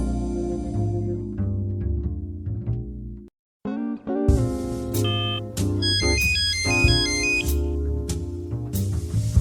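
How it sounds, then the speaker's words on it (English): Electronic telephone ringtone in the video game Martin Mystère: Operation Dorian Gray, a melodic beeping tune over background game music, with a brief silent gap before bright tones resume and repeat. "There's ringing coming from the sofa."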